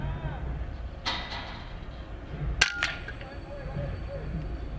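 A rifle shot fired at a pest bird on a dairy farm: one sharp, loud crack midway, with fainter clanks around it, over steady outdoor background hum.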